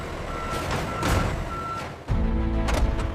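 A truck carrying a loaded pallet of cans away from a factory reverses. Regular high-pitched backup beeps repeat over a low engine rumble, and a heavier thump and louder engine come in partway through.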